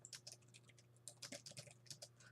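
Quick, irregular keystrokes clatter on a computer keyboard, faint and close, in short bursts over a low steady hum.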